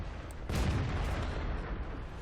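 A single booming shot from the AMX M4-45 tank gun in World of Tanks, a heavy low blast that rolls out and fades over about two seconds, with no talking.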